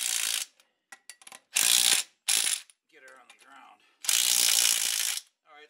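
Ratchet wrench clicking in loud bursts while torquing bolts on an 8-inch Mustang differential, several rapid ratcheting runs separated by short pauses, with a quieter metallic rattle in between.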